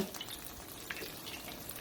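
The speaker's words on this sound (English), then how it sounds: "I can see that it's already sizzling, so I know that it's ready to put our chicken in" Chicken breasts fry in a large pan of hot oil for chicken Parmesan, producing a steady, close, bubbling sizzle with faint pops throughout and no talking.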